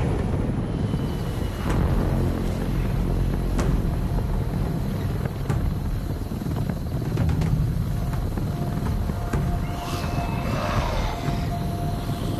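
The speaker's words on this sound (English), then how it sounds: "That chopper's got my name on it." A helicopter in the VR zombie shooter Arizona Sunshine 2 gives off a steady, loud rotor and engine drone that holds without a break throughout, with faint higher mechanical tones above it and no talking.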